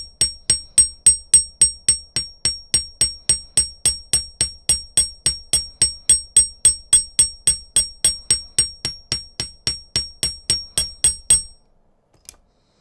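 Metal hammer striking wire on a hard block to flatten it for teardrop dangle earrings, about thirty evenly spaced sharp ringing blows in a steady fast rhythm, close and loud, then a final lone tap after a pause.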